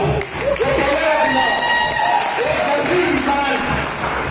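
An audience claps for a tailor being introduced at a business gathering, a steady broadband patter of applause filling the clip while voices carry on over it.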